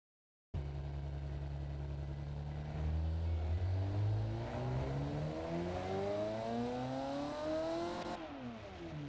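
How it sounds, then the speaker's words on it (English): A simulated car with a 707-horsepower Hellcat engine revs hard in BeamNG.Drive, its loud, steady engine note climbing in pitch for several seconds, then dropping sharply near the end. "There we go, it's got a Hellcat engine,"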